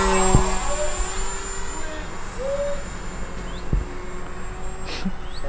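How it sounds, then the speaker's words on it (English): A Durafly Efxtra 950mm RC plane flies a pass in front of the pilot on a calm, windless day, its electric motor giving a steady whining drone with faint tonal sweeps as it goes by, no one talking. "I'll do a pass right in front of us."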